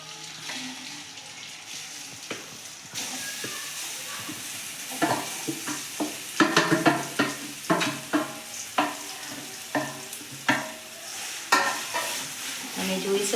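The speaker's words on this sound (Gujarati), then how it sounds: "આપણું ઘી ઓગળી ગયું છે હવે આપણે આમાં હળદર નાખી દઈશું" Fresh turmeric frying in melted ghee in a pan, a crackling sizzle under repeated rhythmic scrapes and knocks of a stirring spoon, close and moderately loud.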